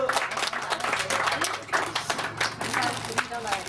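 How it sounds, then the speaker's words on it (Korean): A small group claps at a welcome party for newcomers, with quick scattered clapping mixed with loud talking and laughter, close and lively. "박수!"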